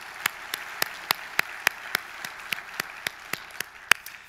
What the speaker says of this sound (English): So let's a round of applause for the Commercial Real Estate Council.